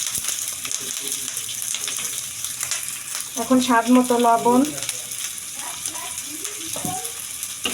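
Green chillies and onions frying in hot oil in a wok give a steady low sizzle that swells into a louder burst midway, with someone speaking briefly over it.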